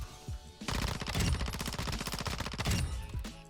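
Rapid submachine gun fire on a firing range in Call of Duty: Modern Warfare II, a sustained dense burst of automatic shots lasting about two and a half seconds, loud and close, with quieter shots before and after it.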